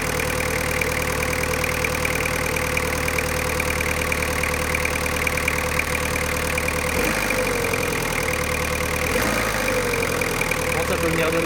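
A diesel engine idles at raised rpm, a steady, dense mechanical drone with a faint knocking texture that runs loud and unbroken throughout, with a couple of brief clunks near the end.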